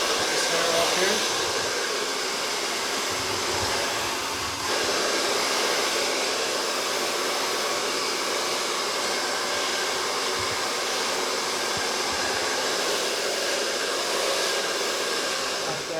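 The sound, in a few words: hair dryer blow-drying hair from underneath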